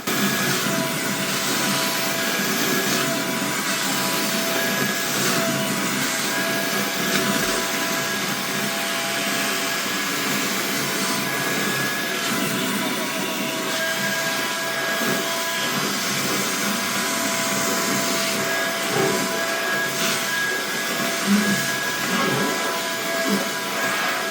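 A Silvercrest SAS 7.4 LI cordless handheld wet and dry vacuum cleaner running steadily, a loud constant whine with airy hiss that never lets up.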